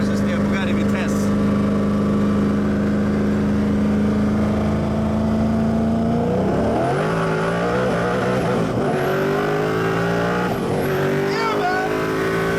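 Heard from inside the cabin, a Bugatti Veyron Vitesse with its top speed key engaged and a Koenigsegg Agera R accelerate from a rolling 50 km/h start, engine roar loud and rising steadily, then shifting and climbing again.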